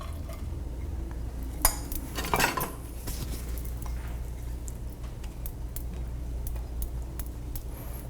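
Chicken sizzles softly in a pan on low heat over a steady background hiss, with a few clinks of utensils against cookware; no one speaks.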